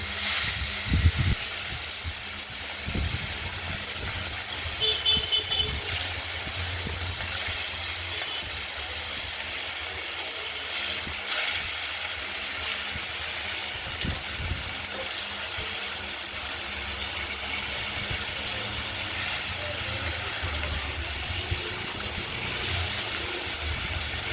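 Catla fish crackles and hisses steadily in spattering oil in a pan, a constant sizzling spatter with occasional louder pops.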